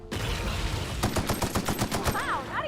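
Rapid gunfire bursts crackle in the video game Outer Worlds, a quick string of sharp shots followed by whooshing sci-fi effects, with a player's voice faintly under the action.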